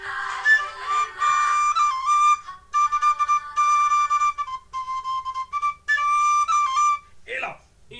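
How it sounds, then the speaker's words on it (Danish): A small whistle or flute played close by, a short bright melody of held and stepped notes with brief pauses, ending in a quick breathy slide. "Man kan også have en fløjte."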